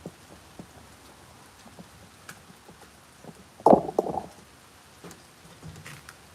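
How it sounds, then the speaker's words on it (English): Rain falling outside at night, a soft steady patter of drops on surfaces heard from nearby, with a brief louder burst of splashing partway through; quiet and continuous with no talking. "See, look how much it's raining. Like, it's like actual rain."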